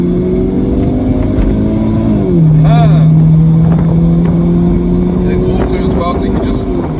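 A BMW 1 Series E88 driving, the engine droning loudly inside the cabin, dipping in pitch and then holding steady as it pulls, with a person talking over the noise.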